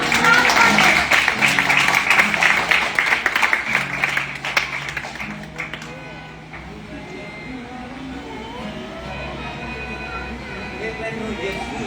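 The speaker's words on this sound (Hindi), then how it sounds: "इस पे तालियां बजनी चाहिए।" A congregation at a Christian sermon breaks into dense applause that rings strongly for several seconds, then fades to quieter scattered clapping and room noise.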